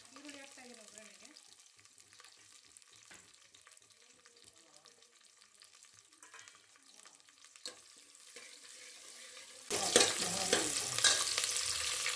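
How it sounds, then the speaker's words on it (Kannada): A tempering of curry leaves, mustard seeds and onion in hot oil, faint scattered crackles and clinks for most of the stretch, then a sudden loud burst of sizzling as the onion hits the pan. "ಈರುಳ್ಳಿ ಹಾಕ್ತಾ ಇದ್ದೀನಿ ಒಗ್ಗರಣೆಗೆ."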